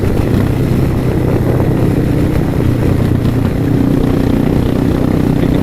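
A Suzuki S40 motorcycle engine drones loud and close while riding on Uvas Road, a steady rumbling note that holds across the shift down from fifth to fourth gear with no one speaking.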